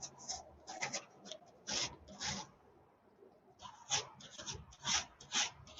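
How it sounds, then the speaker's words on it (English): Sandpaper rubbing across a plated metal swivel to wear through its non-tarnish coating, heard as close raspy strokes in two bursts of repeated back-and-forth scrubbing with a short pause between them. "Using my sandpaper"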